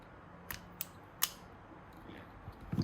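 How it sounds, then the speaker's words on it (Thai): Wire insulation being stripped during a headlamp repair, three or four crisp snips and clicks close at hand with quiet handling noise between them and a soft rustle at the end. "ก็ปอกสายไฟก่อนนะฮะ"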